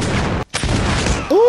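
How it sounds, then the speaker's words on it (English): Battle gunfire from the 2000 film The Patriot, a dense rolling fusillade of musket shots with a brief gap, then more firing, mixed with shouting and a viewer's voice reacting. "Gunfire coming from a different direction."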